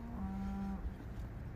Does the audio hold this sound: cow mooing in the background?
yes